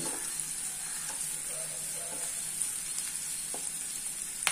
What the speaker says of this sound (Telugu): ఇందులో కొంచెం కొత్తిమీర కరివేపాకు వేసుకుని ఫ్రై చేసుకోవాలి